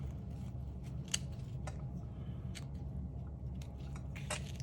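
Quiet, close snips of scissors cutting through a strong paper page in a craft setting, with a few sharp separate cuts over a low steady background hum.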